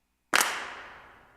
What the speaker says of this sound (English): It's actually a clap sound.